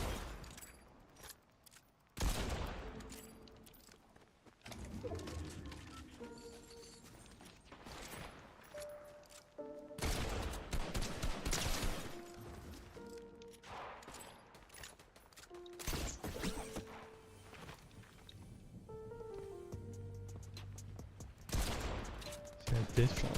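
Video game gunfire crackles in repeated bursts and single shots across the stretch, fairly loud, with a voice talking over parts of it.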